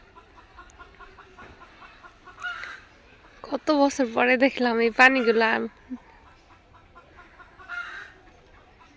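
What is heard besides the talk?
chickens clucking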